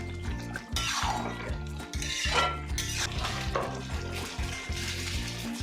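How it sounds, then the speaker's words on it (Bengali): A metal spoon scrapes and clanks rhythmically against a pan as beef curry is stirred with coriander leaves, under a soft sizzle, with repeated scraping strokes close up. "খুব ভালো করে আমি আবার নেড়ে চেড়ে মিক্স করে নেব ধনে পাতাটা মাংসর সাথে"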